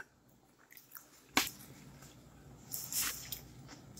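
Someone chews food at a dinner table, close up, with a sharp bite followed by soft, wet squishing and crunching chews at an irregular pace, fairly quiet, with no talk.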